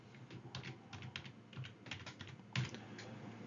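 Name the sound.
typing a word on a computer keyboard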